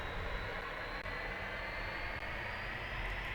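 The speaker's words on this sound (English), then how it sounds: "I'm going to spool up the engine for a couple of seconds." The L-39C jet engine in the DCS flight simulator spools up on the runway, a steady, loud turbine roar with a high whine that climbs slowly in pitch, no talking.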